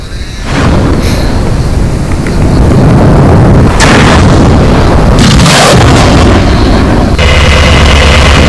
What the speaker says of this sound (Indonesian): Kendaraan tempur Rusia melepaskan serangan tembakan roket peluncur ganda BM-27 ke pusat komando